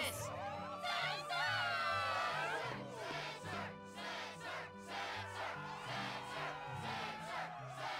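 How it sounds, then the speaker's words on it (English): A stadium crowd in Kingdom Hearts II Final Mix cheers loudly at a Struggle championship match, a dense, sustained roar with whoops and chanting that swells and pulses for the whole stretch, close and full. "Yes, the crowd is fired up"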